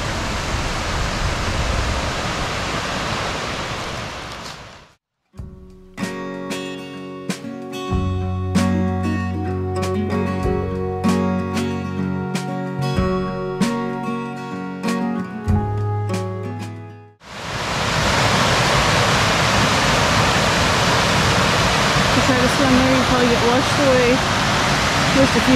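A stream flows in a wooded spot near Eureka Springs, Arkansas, its broad steady rushing heard loudly at the start and end, with a music-filled stretch in between.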